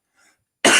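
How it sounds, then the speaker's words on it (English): A single loud, harsh cough bursts out after a kale chip during a live Christmas singalong stream, close to the mic and preceded by a faint breath. "when you cough, you got to explain it"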